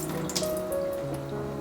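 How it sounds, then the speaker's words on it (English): Soaked rice being washed and rinsed under running tap water in a sink, a steady close splash and trickle with no talk, made while preparing coconut fa gao, Chinese prosperity cakes. "You want to wash and rinse the rice a few times to get rid of excess starch."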